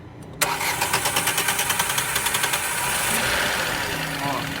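A Renault Logan, Sandero or Kwid 1.0 12-valve three-cylinder engine cranks with difficulty, the starter chugging in a rapid, even rhythm for about three seconds before catching and settling into a loud, close idle.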